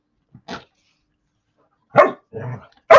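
A dog barks several times nearby in short, sharp bursts separated by silent pauses, with one quiet yip at the start.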